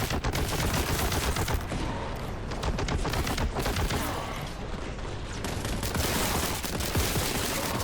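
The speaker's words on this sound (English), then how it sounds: "who is not shooting at me with giant guns?" Dense, continuous rapid gunfire from giant guns in the shooter game Warhammer 40K: Boltgun, loud bursts layered over each other almost without pause.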